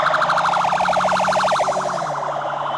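Police car siren wailing in rapid rising and falling yelps during a street chase in Nairobi's central business district, loud and close, then fading slightly as it passes.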